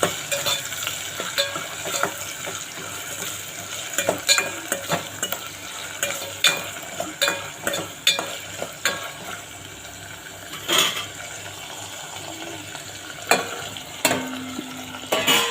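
Ingredients for chicken 65 gravy, ginger-garlic paste among them, being sautéed in a pan: a close, busy run of spatula scrapes and metal clinks over a continuous frying sizzle, no voices.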